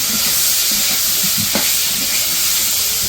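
Loud, steady sizzling and hissing of small fish frying in very hot oil in a kadai, a constant frying roar close up with faint clatter underneath and no speech.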